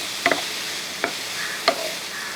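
Onions with salt frying in a pan get stirred, giving three sharp scraping clicks of a utensil over a steady soft sizzle, close and with no talk.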